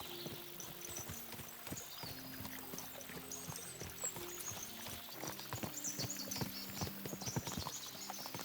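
Horses galloping in the medieval video game Kingdom Come: Deliverance II, with quick, steady hoofbeats pounding throughout and a faint background wash, no voices.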